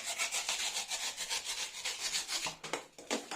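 Excess fabric being cut and trimmed over wooden battens on a wall during a home office renovation, a quiet rapid rubbing, scraping rhythm of repeated short strokes with no talking.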